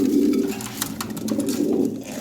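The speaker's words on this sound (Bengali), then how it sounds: "এই যে কবুতর ভাই, দেখার মতো কবুতর" Lahori pigeons coo in low, throaty, rolling calls that repeat up close over a faint background of rustling and shuffling.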